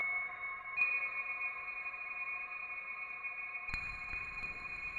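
A sustained synth tone from the RingZ module in the Tera Pro iOS app, shaped by a formant effect, hums steadily with ringing partials and a brief click-like change near the end.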